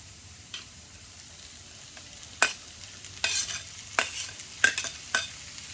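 Halved jumbo shrimp sizzle softly in a pan with taco seasoning, a low hiss broken by several sharp scraping stirs of a utensil that grow more frequent toward the end.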